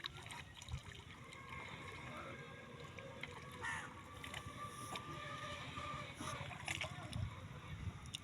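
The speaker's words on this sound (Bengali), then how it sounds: "অনেকগুলো মাছ লাফালাফি করতেছে" Prawns and other fish jump and splash in shallow water in a field. The splashes are faint, scattered and far, with quiet voices and a trickle of water behind them.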